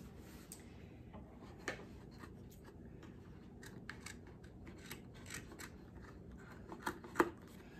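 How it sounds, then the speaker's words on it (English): Scissors cutting off extra material on a Dollar Tree DIY ottoman project, a run of quiet snips and rustling with one louder crisp cut near the end, no talking. "So what we're gonna do now is we're gonna cut off all of this extra."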